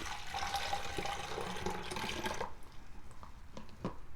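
Iced tea pours from a heavy glass jar with no spout, a loud, steady splashing stream for about two and a half seconds, then a few scattered drips and small splashes.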